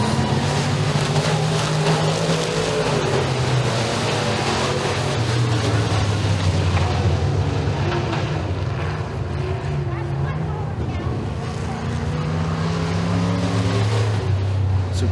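Pro Stock race cars in a heat race at Eriez Speedway, a loud, steady roar of several engines droning together with shifting pitch, likely with crowd or announcer voices mixed in.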